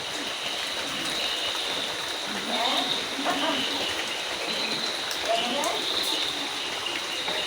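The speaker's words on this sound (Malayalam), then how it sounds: "ഇവിടെയൊക്കെ നല്ല മഴ" Steady rain hisses down continuously, with a faint voice or two murmuring in the background.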